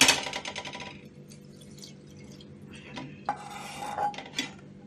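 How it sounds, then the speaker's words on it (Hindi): Metal utensils scrape and clink against a pan as excess frying oil is removed after frying potatoes for Kashmiri dum aloo; a loud clatter opens, then quieter scraping and scattered clinks follow, with no talk. "अब ये तेल मैं थोड़ा निकालती हूँ, ज़्यादा है ये तेल"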